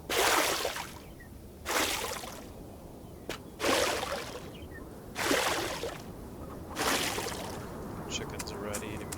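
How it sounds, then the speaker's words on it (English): Planted zucchini squash crops are watered in the farming video game Farm Together: five evenly spaced, splashy sprinkling bursts over a faint, steady background. "Let's go ahead and water them."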